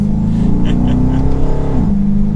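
A 2023 Dodge Charger R/T Daytona engine burbles with a deep, throaty exhaust rumble, idling close by and rising slightly in a brief rev.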